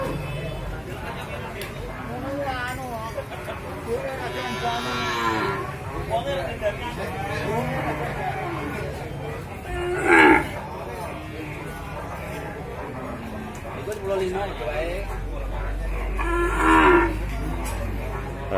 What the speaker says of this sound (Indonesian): calon sapi-sapi besar semua ini